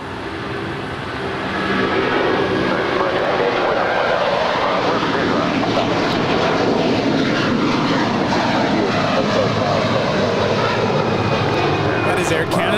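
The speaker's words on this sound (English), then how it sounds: "That is Air Canada 774 departing to Montreal in an 11-year-old Airbus A330 300." An eleven-year-old Air Canada Airbus A330-300 departs Los Angeles International Airport. Loud broadband engine roar swells within the first two seconds and then holds steady and dense, with voices faintly present beneath.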